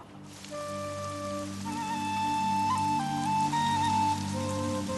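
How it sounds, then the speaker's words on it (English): Steady October rain falls in a valley, a constant close patter on surfaces mixed with sustained musical tones. "October brings rain to the valley"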